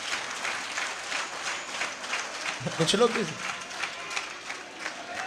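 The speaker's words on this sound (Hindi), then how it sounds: "जो ताली बज रही ना" Steady applause from a seated audience at a spiritual talk carries on throughout, with a voice briefly speaking over the clapping midway.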